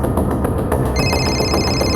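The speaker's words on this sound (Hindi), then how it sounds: "एक मिनट सर, नेहा का फोन।" A mobile phone rings with a steady electronic ringtone, a sustained tone repeating clearly over a busy background, with no one talking over it.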